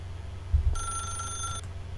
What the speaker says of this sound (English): Don't answer the telephone.